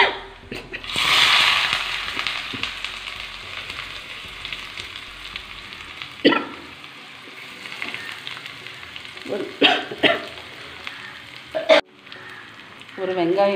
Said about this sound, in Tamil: நான் எண்ணெய் வச்சுருக்கேன், கொஞ்சம் கடுகு சேர்த்துக்கிறேன்.